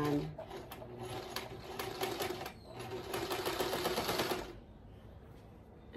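A sewing machine runs steadily, stitching scrap quilt blocks with a quarter inch seam. The rapid mechanical chatter is close and continuous for about four seconds, then stops. A voice is heard faintly.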